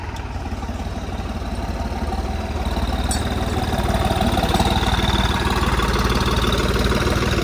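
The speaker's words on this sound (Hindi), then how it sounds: "ये वाइट ट्रैक्टर लेके आ गया है" A white New Holland 3630 tractor engine idles steadily nearby with a low, even rumble that grows slightly louder, no voices present.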